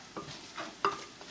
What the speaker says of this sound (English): you just keep right on frying and mix that teriyaki sauce in there